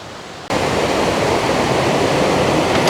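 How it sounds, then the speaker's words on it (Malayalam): A waterfall pours down a mountainside in the Lauterbrunnen valley, Switzerland, a loud, steady, broadband rush that begins abruptly after a half-second of quiet and continues unbroken without voices. "പല വെള്ളച്ചാട്ടങ്ങളും ഇതേപോലെ ഒഴുകി ഇങ്ങനെ പോകുന്നുണ്ട്."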